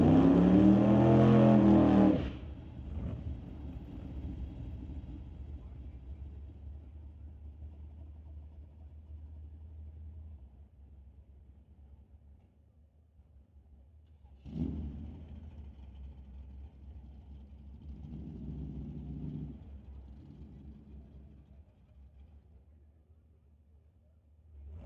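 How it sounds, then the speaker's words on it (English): A new dragster launches down a drag strip at an ET Series bracket race, a loud roaring burst for about two seconds that drops to a distant low rumble, with engine noise and voices rising again later. "we'll roll into a dragster pass for Emma Debris-Coos"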